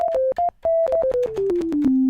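A sine-wave patch on the NLog PRO iPad synth plays a string of clean, pure tones that step mostly downward in pitch, about a dozen short notes ending on a longer held one.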